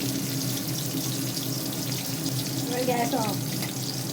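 Water runs steadily into a cooking pot on a gas stove while Bengali mustard-paste chyala fish is being made, a continuous close gush with a brief bubbling, gurgling change near the end.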